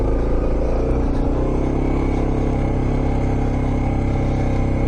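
A vehicle engine revs hard in first gear while riding through sand up a hill in Wyperfeld National Park, a loud, sustained, close roar with no talk.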